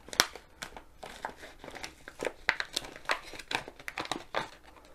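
Plastic packaging crinkles and crackles up close as a roll of washi tape from a Diamond Art Club diamond painting kit is unwrapped, a quick irregular series of loud crumpling bursts.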